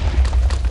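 End crystal explosions in Minecraft PvP come as a quick run of loud, booming low thuds, close and rapid, with no talking.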